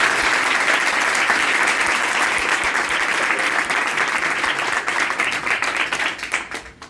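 Loud, dense applause from a coaching-class audience in Kurukshetra fills the room steadily for several seconds, then thins and fades toward the end.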